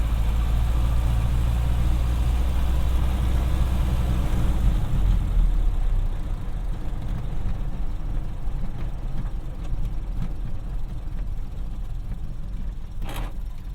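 A 1931 Ford Model A Coupe engine rumbles while driving, loud and deep at first, then easing to a softer, steady drone with road noise and a brief click near the end.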